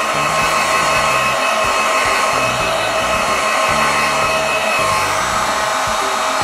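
A heat tool blows hot air to dry a craft piece, a loud, steady, close whooshing drone with a whining motor tone running unbroken throughout, no talk.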